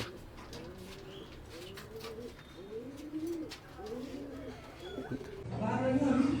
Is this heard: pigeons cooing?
yes